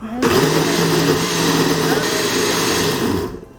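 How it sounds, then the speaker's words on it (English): A blender whirs loudly at high speed, a steady grinding whine that holds for a few seconds before cutting off. "I am not used to doing this in a blender."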